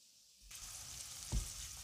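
Carrots dropped into warm oil in a pot, a sudden close sizzle that starts abruptly and keeps frying steadily, with a soft thump partway through.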